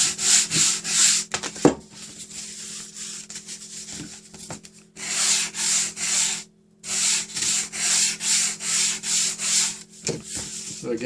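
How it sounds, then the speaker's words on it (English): A corrugated cardboard edge sanded with 220 grit sandpaper, a close, loud rasping in quick rhythmic back-and-forth strokes, broken by a couple of short pauses with light taps and handling noise. "you can keep sanding it to make it maybe a little bit more square"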